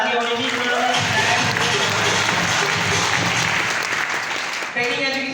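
An audience at a business program applauds steadily, a dense, sustained wash of clapping that stays loud throughout, with a voice faintly audible at the start.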